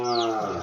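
A cow that is missing its mother lets out a single short, close moo, loud and falling in pitch, with nothing else around it.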